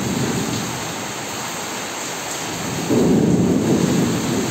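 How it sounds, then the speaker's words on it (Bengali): A Kalbaishakhi thunderstorm in Bagerhat, Bangladesh: heavy rain roars steadily with rumbling thunder, growing louder and denser in the final seconds, with no voices. "বাইরে প্রচণ্ড পরিমাণে বৃষ্টি হচ্ছে আর বাস পড়ছে, বিদ্যুৎ চমকাচ্ছে, মনে হচ্ছে কালবৈশাখী ঝড় হচ্ছে।"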